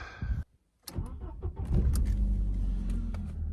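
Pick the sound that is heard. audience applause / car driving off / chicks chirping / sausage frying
car driving off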